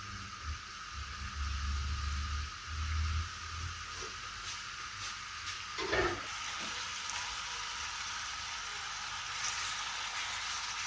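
Minced meat (keema) fries in hot oil as a faint, steady sizzling hiss, with a brief clatter partway through.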